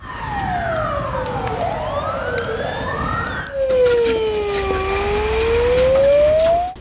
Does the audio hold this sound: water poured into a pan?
no